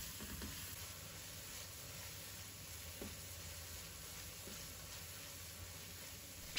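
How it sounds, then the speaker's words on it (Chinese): Oysters stir-fry in a wok with soy sauce, pepper, white liquor and oyster sauce, giving a faint steady sizzle with a few soft stirring scrapes and no talk. "把它们炒出去酱香气味"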